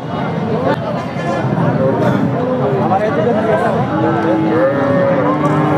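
Several cattle moo loudly and close by over a busy crowd of voices and general hubbub at a livestock market.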